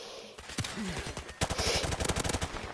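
Automatic M4 and G3 rifle fire in a Call of Duty game, a short burst of rapid shots followed by a longer, louder stream of close, evenly spaced gunshots.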